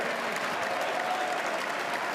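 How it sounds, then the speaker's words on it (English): An audience stands and claps, a steady, dense wash of applause from a large crowd heard at some distance, continuing without a break. "Look at all these fucking shills standing, clapping."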